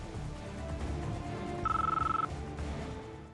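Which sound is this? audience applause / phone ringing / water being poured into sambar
phone ringing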